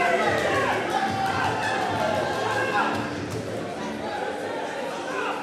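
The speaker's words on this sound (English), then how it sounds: "The French crowd getting right behind Angel Jean-Gerard here" French fans at an Apollo Fight Night boxing event keep up a steady roar of crowd noise and chatter, loud and dense throughout, with an arena announcer's voice running over it.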